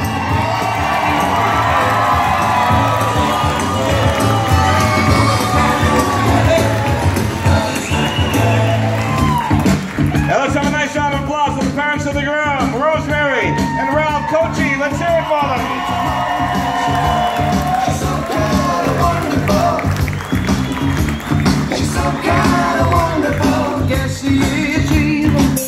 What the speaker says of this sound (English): I want to give them all a nice round of applause as we say their names.